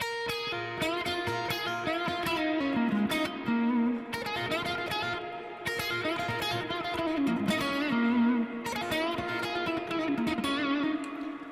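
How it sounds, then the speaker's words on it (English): An electric guitar plays a bluesy lick with bends and sustained notes, drenched in reverb, repeated in phrases with no talking. "It's too much reverb for that lick, but it's a nice lick."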